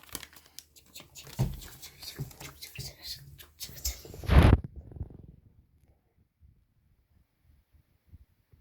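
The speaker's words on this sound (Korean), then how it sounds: "오늘은 제가 비행기를 접어볼 건데요. 같이 접어보겠습니다." Paper being folded into an airplane by hand, with close crinkling, creasing and tearing-like rustles for about five seconds, a louder crumple near the end, then near silence. Soft speech is heard in the background.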